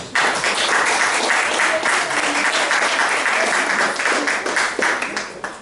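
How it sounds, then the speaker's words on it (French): Applause at a reggae concert, steady and crowded, with many hands clapping close together at strong volume before it thins slightly and tapers near the end. "On applaudit la sœur."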